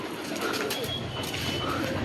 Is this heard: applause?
no